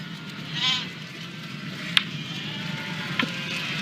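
Sheep bleating out on salt meadows of the Baie de Somme, a faint wavering call early on over steady wind-like background noise, with a couple of short clicks later.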